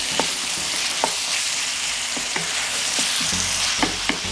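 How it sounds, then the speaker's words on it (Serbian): Seasoned vegetables with sweet ground paprika and crushed hot pepper frying steadily in a pan, a continuous close sizzle broken by several sharp scraping taps as they are stirred, with no voices. "Promešamo i nastavimo da pršimo."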